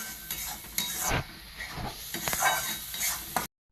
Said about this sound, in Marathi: मशाला इकडे फ्राय होत आहे